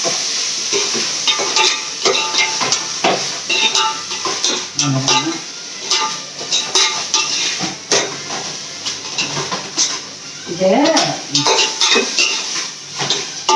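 Biryani masala with fresh mint sautés in a pot for chicken biryani, a loud sizzle broken by repeated scraping and clinking of a spoon against the metal as it is stirred, with no talking.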